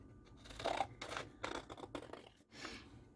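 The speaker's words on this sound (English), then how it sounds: "you will actually need a pair of sharp scissors to cut the felt" Sharp scissors cutting felt for a coffee cozy make a few quiet, close snips and rasping slices in an irregular rhythm, with brief pauses between cuts.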